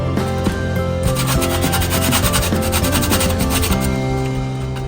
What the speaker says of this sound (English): Let's go ahead and grate that nutmeg in there.